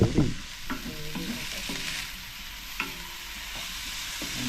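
Banana blossom adobo with meat being stirred and fried in a pan: a steady close sizzle runs throughout, broken by repeated scraping strokes of the spoon against the pan.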